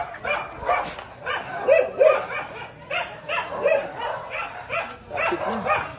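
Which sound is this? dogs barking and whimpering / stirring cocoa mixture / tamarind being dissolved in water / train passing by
dogs barking and whimpering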